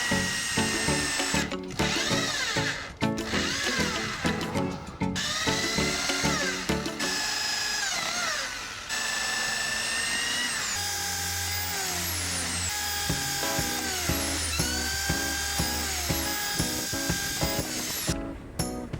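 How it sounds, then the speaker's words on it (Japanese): A power drill bores a series of holes through a PC case top panel following a paper template, with repeated whining bursts that rise and fall in pitch between short pauses, loud and close. "型紙に沿って、ドリルで穴を開けていきます。"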